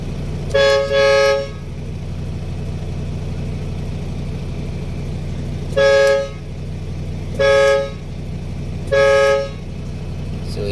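A car horn wired directly for testing during horn circuit diagnosis gives four short, loud toots, the first double and the rest single, spaced a few seconds apart over a steady idling engine hum.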